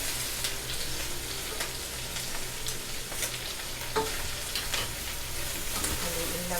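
Sliced cabbage and pork sautéing in a pan for Filipino ginisang repolyo, a steady close crackling sizzle with scattered scraping stirs throughout, and no talk.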